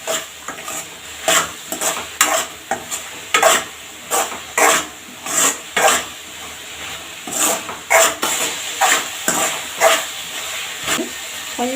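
Pasta tossed with red chilli powder is stirred in a pan with a spoon, giving a quick run of regular scraping strokes, close and clear, with no talk.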